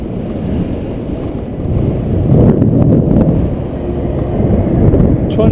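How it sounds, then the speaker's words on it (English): Heavy wind buffeting the microphone during a bike ride on Pole Hill Road west of Loveland, Colorado, a loud continuous low rumble that gusts stronger partway through, with no voices. "getting a little windy"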